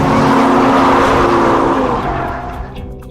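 A BMW M2 (F87) drifting sideways, its engine roaring loud and close with a tire squeal before the sound fades as the car moves off.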